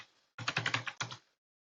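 Fingers type a username and password on a computer keyboard: a short quick burst of about seven close, crisp key clicks, a brief pause, then one or two final keystrokes, all alone in an otherwise quiet room.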